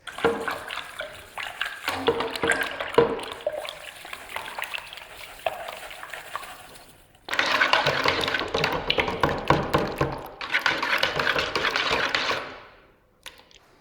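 Water pours from a tap into a container, measured out to mix wallpaper paste. It is a splashy, hissing stream in two main bursts with a short pause between, fairly close, and nobody speaks.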